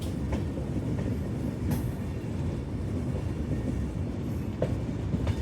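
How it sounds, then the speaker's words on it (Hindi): Steady rumble and clatter of the 13246 New Jalpaiguri Capital Express passenger train running on the Patna to New Jalpaiguri line, a continuous rolling drone with faint periodic wheel clicks and no talk. "और कितने प्यार से जा रही है ये ट्रेन हमारी"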